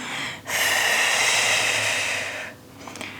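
A single long, loud breath through the nose or mouth, rushing for about two seconds during a neck and shoulder warm-up exercise, framed by short pauses.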